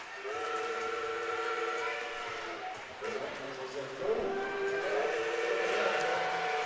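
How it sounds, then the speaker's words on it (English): Holiday train run by Oaks Park sounds its steam whistle in long sustained tones from a distance, heard over roller derby arena ambience with people talking nearby. "Yeah, I believe that is the holiday train run by Oaks Park."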